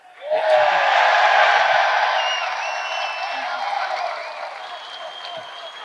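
Applause and cheering rise sharply from a crowd at a UFC pre-fight press conference for Makhachev vs. Volkanovski. The sound is loud and sustained across a large room, then eases slightly. Some voices are mixed in.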